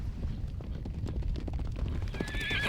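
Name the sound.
wild horses neighing and hooves clopping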